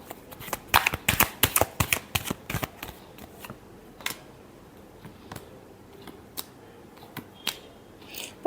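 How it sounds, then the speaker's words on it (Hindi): Tarot cards being shuffled close up, a burst of rapid crisp riffling flutters in the first few seconds, then scattered soft taps and snaps as the deck settles, quiet room, no talking. "Last shuffle."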